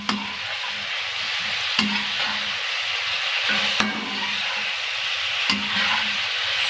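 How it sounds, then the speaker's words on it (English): Honey-coated sesame chicken is stirred in a sizzling pan, steady frying hiss broken by regular scraping strokes of a spoon roughly every two seconds. "Mix it well"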